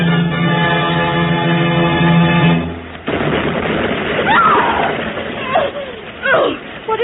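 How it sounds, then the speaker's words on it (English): Rockets shot up in a radio drama: after a sustained tonal roar, a sharp blast and a rush of rumbling, crackling bursts follow, with voices calling out amid the commotion. "What was that explosion?"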